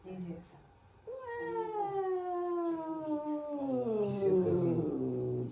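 A large long-haired cat outdoors for nearly the first time lets out a long, drawn-out caterwauling howl that wavers and rises, fairly close and clear, after a short quieter stretch at the start.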